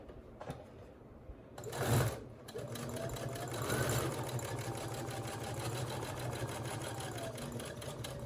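A sewing machine runs in a steady rapid whir while stitching the curved edges of a fabric dog bone toy, starting after a brief pause and a soft thump, then continuing close and even to the end.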